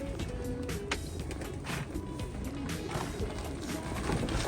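Pigeons coo inside a roof loft under repair, soft low throaty calls repeating amid a steady background hum, near but fairly quiet.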